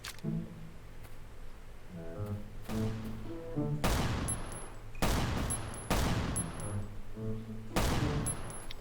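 Gunfire in the survival shooter Last Island of Survival: repeated bursts of rapid shots in clusters with short pauses, loud and close, with bright metallic ringing accents and low tonal game ambience between volleys.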